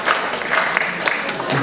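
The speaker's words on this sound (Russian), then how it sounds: "Бурные аплодисменты всем участникам!" An audience at an accordion gala concert claps in a short, dense burst of applause, bright and continuous, with a faint murmur from the crowd underneath.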